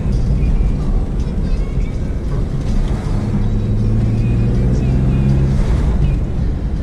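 Steady low engine rumble and road noise from inside a moving turbocharged BMW M3 on a test drive after boost leak repairs, continuous and fairly loud, with a faint voice underneath.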